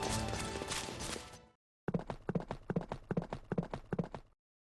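Hooves of a horse drawing a cart in Fate/Grand Order clop in a steady, close, even rhythm for a couple of seconds, after a dense burst of other sound and a short silence.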